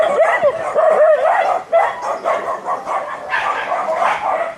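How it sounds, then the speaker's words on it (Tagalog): Several dogs bark and yip loudly at a rainy bike campsite in Indang, repeated sharp barks with whimpering between, fairly close, with little talk. "Tamang tahol sa paligid."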